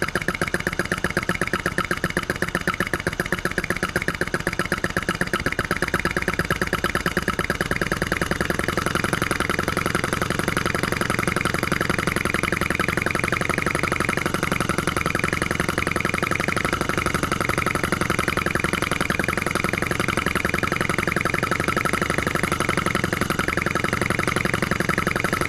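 A flame licker engine, also called a vacuum engine, runs steadily with a flame drawn in and out of its port, giving a fast, even mechanical chuffing and rattle, close and continuous with no talk.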